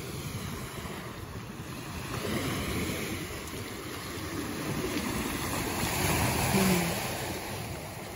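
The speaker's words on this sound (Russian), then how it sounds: "волны вроде такие, ну, добротные" Sea waves wash onto the shore at Gelendzhik in December, a continuous rushing surge swelling and easing, mixed with soft, weak southerly wind noise and no voices.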